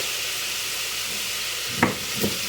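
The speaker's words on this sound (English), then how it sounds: "Give everything a good mix." Smoked paprika, bay leaves and salt are mixed in a sizzling pan, a steady frying hiss with two brief scraping stirs near the end.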